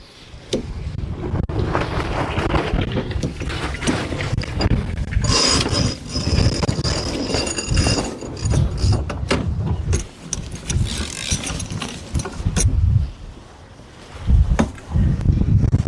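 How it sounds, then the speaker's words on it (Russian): A sailing yacht's winch is loaded for a tack, with ratcheting, clicking mechanical bursts over wind and water noise, close and fairly loud. "Заряжаем лебедку."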